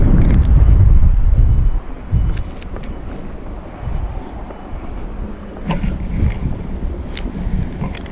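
Strong wind buffets the microphone at a seashore during fish netting, a loud rumbling gust at first that eases into a steadier, softer rush with faint splashes and rustles.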